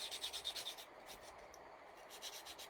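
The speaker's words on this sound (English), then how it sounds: "I'm just going to give that a little sand as well" Close, faint rubbing of sandpaper on a small metal jump ring being cleaned for soldering, quick back-and-forth strokes at first, then softer, scattered scraping, with no talk.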